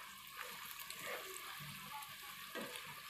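Chopped onions frying in a pan for chicken korma, a faint, steady sizzle with soft stirring scrapes, heard alone.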